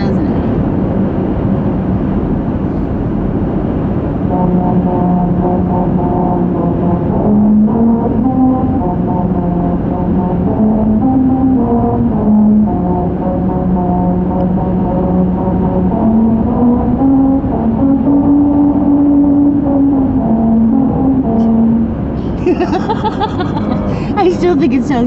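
Car tires rolling over a musical highway road at 55 miles an hour play the William Tell Overture as a steady rising and falling tonal hum, loud and continuous inside the car, without speech.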